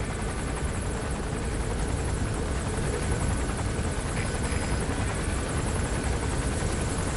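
A helicopter in the video game Metal Gear Solid V: The Phantom Pain circles nearby, its loud, constant rotor roar filling the scene without a break.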